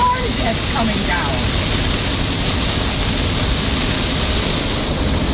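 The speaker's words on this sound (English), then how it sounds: "It's raining so hard you can't see out there." Heavy rain pours down in a dense, constant roar that stays loud and unbroken from start to finish, with a voice briefly audible at the beginning.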